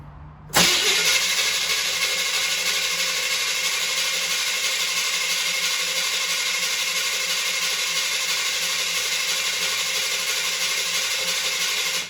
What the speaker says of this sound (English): So I'm gonna crank it right now and pump these up